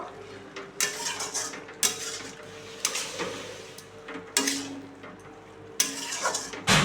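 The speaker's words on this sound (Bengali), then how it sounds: "ভালো করে নেড়ে নেবো" A spoon works through a thick fig curry in a pan, producing repeated metallic scrapes and clanks against the pan at an irregular rhythm, close and fairly loud over a faint background hum.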